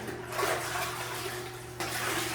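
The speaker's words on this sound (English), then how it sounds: "giving it a second kind of washing using some cleaner water" Clean water washing over newly laid tile during a second rinse, a steady broadband wash of running, sloshing water with a brief shift partway through, close and continuous with no talk.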